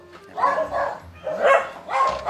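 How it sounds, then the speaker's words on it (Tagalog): Several dogs bark in three bursts, loud and fairly close, with short pauses between the outbursts. "Maraming aso."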